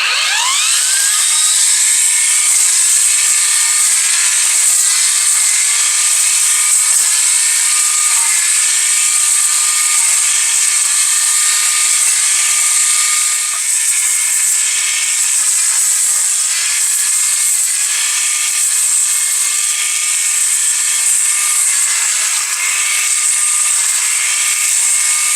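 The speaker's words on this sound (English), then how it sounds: "I use the weed whacker for this." A weed whacker cuts down thick asparagus stalks outdoors, a loud, steady high-pitched motor whine running without a break from start to finish.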